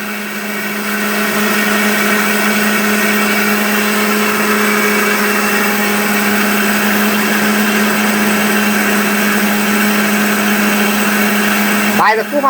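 An electric multi-cooker runs with a steady, smooth motor hum. The tone stays constant and moderately loud throughout, with a brief disturbance near the end.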